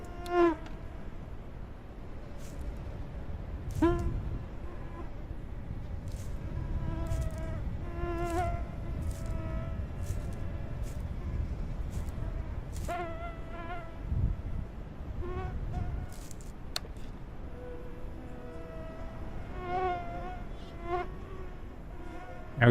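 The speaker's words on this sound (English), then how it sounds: "I hear their wings." Mosquito wings buzz in the BULT hunting video game, a long run of high, droning whines that rise and fall as insects drift close and away over a soft outdoor background.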